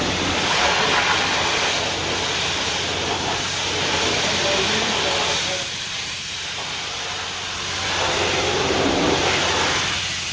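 Cleaner is sprayed onto a 1986 Chevrolet Silverado, steady hissing spray running almost continuously for about ten seconds, easing slightly midway before building again, loud and close.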